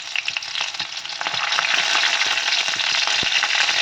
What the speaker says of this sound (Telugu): ఆయిల్ వేడయ్యాక గరం మసాలా, కరివేపాకు, పచ్చిమిర్చి వేసుకుంటున్నాను.